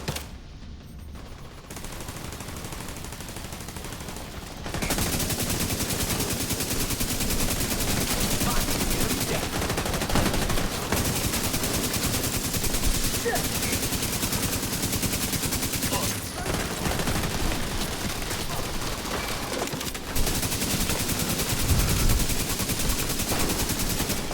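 Sustained automatic turret fire in The Division 2 pours out in long, loud, continuous bursts separated by brief pauses.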